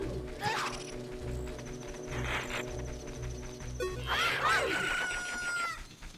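A rooster crows at dawn in The Legend of Zelda: Ocarina of Time, a clear game sound effect heard over layered background music and ambience.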